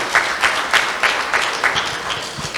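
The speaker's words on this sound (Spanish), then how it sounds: "Dele palmas al Rey." Church congregation clapping in a steady rhythmic beat, about three claps per second, loud and sustained across the whole stretch in a reverberant hall with no talk.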